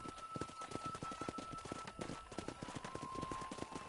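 Horse hooves clip-clopping at a steady galloping rhythm in the video game Red Dead Redemption, close and continuous over a low background hum with a faint tone.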